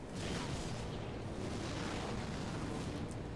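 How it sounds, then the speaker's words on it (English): An explosion in the Mirror's Edge video game, a dense, sustained rumbling roar with no sharp peak, filling the whole stretch at a steady, moderate level. "I have to admit, it's a pretty piss weak sounding explosion."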